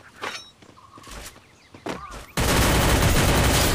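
Gunfire from the Free Fire video game comes first as scattered sharp shots and thuds, then turns into a sudden loud, dense burst of sustained fire that fills the final stretch.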